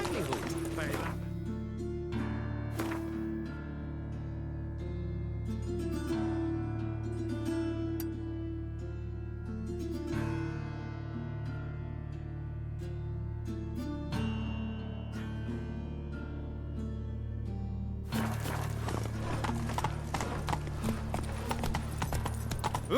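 Geralt's horse Roach galloping in The Witcher 3 video game, steady rhythmic hoofbeats throughout with game music and voices talking over it, louder clattering near the end.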